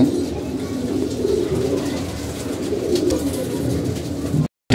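A dense, continuous murmur of many pigeons cooing together, loud and close, ending in a sudden brief cutoff.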